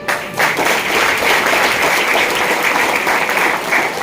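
Audience applause at a Hindi-speaking planner gathering, a dense steady crowd of clapping hands that stays loud and continuous throughout, rising briefly at the start and holding without a break.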